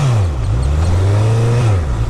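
A Honda CBR1000RR motorcycle engine revs up as it accelerates, a loud, close, steady roar that climbs in pitch and holds for about two seconds.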